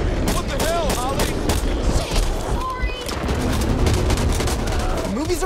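Rapid gunfire in the zombie shooter Back 4 Blood, dense repeated shots crackling over a continuous loud din of combat, with voices talking through the action.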